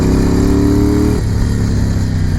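Moto Guzzi V7 750 Sport motorcycle engine rumbling close by, a steady deep growl that drops slightly in pitch about halfway through and then holds a lower, even throb.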